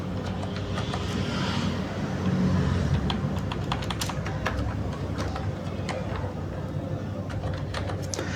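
Rapid clicking of keys on a computer keyboard while login details are entered, irregular bursts of sharp taps over a steady low background hum, fairly close.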